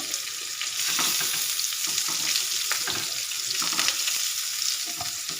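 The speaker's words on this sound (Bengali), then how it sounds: "এবার আমি লাল লাল করে ভেজে নিই পটল" Pointed gourd (potol) frying in oil with turmeric and salt, a steady broadband sizzle with occasional stirring scrapes, close and continuous with no talking.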